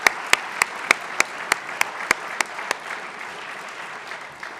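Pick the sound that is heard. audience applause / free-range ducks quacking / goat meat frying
audience applause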